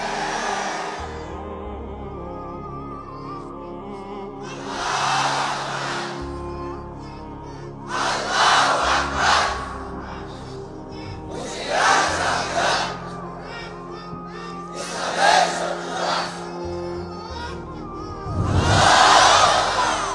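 A large crowd at a political rally in Bangladesh shouts slogans in unison, with five loud collective chant bursts spaced a few seconds apart, and a leader's amplified voice booming between them.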